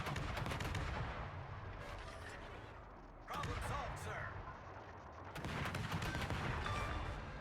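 Naval gunfire in a warship video game, heavy shell blasts and impacts booming in dense bursts with a lull in the middle, loud and continuous throughout.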